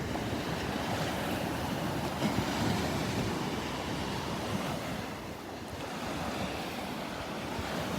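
Ocean waves break steadily on a Gulf beach at Delnor-Wiggins, a continuous loud wash of surf mixed with wind noise on the microphone, with no voices.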